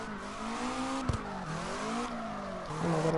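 A car in CarX Drift Racing slides and spins out during a drift, with a continuous engine drone shifting in pitch, a sharp tyre-squeal burst partway through and the revs rising again at the end.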